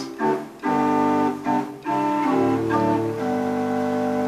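Pipe organ solo-division pipes sound sustained chords close overhead, with rich held tones shifting between several chord changes and brief gaps between phrases.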